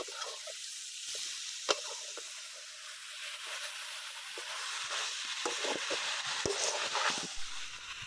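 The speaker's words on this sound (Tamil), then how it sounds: "நம்ம மேரினேட் பண்ணி வச்சுருக்க சிக்கனை சேர்த்துக்கோங்க. சேர்த்து நல்லா மிக்ஸ் பண்ணி விடுங்க" Marinated chicken with onions and tomatoes sizzles steadily in a pan for Pallipalayam chicken, under a constant frying hiss broken by scraping stirs and a sharp clink from the spoon, with no talking.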